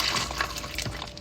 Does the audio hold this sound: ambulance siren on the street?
no